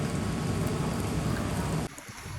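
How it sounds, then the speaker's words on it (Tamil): Rain falls steadily at night in Vietnam, a dense even hiss that cuts off abruptly near the end, with no talking. "ஸோ அதே மாதிரி தான் வியட்நாம்லேயும் இப்போ மழை"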